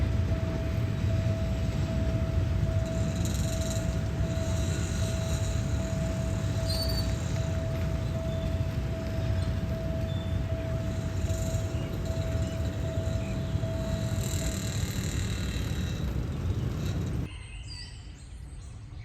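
A freight train passes at Thung Song Junction station in Thailand, a steady, loud rumbling drone with a sustained tone running continuously for about seventeen seconds, then cutting to quieter background noise.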